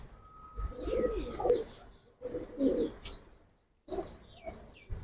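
Pigeons, including Giribaz and flying breeds, coo repeatedly at a bird market, with soft overlapping calls rising and falling in bursts and a few chirps between them.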